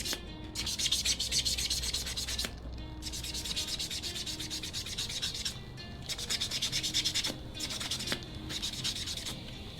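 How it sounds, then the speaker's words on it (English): A sanding block buffs over polygel nails in quick, rhythmic scratchy strokes, close and fairly soft, with brief pauses between bursts of rubbing. "now I go in with the sandblock slash buffing nail"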